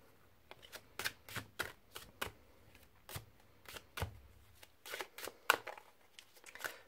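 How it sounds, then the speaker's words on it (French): Playing-card decks riffle-shuffled a second time, giving a series of sharp, crisp bursts of flicking cards at an irregular rhythm, close and fairly quiet, with no voice. "Donc c'est un deuxième battage."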